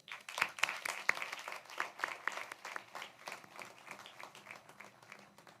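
A graduation crowd claps for the graduates of a STEM academy class, a fairly distant burst of applause that peaks early and gradually thins and fades.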